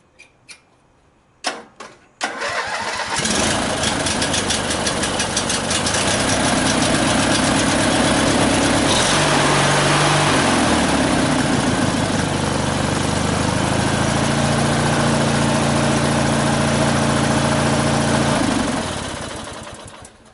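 A small engine machine fires up after a few clicks and pulls, then idles loudly and steadily for a long stretch with its pitch shifting slightly, before cutting off at the end.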